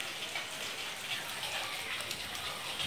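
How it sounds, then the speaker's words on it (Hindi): Heavy rain pours down under dark clouds, a constant dense hiss and patter at moderate level with no pauses and no speech. "अब देख सकते हैं बहुत ही तेज़ बारिश हो रही है"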